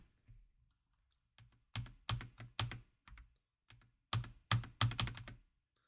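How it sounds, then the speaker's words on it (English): Keys typed in short bursts on a computer keyboard during spreadsheet work, crisp clacks landing in quick clusters with brief pauses between them, close up and with no talking. "We're just using the keyboard."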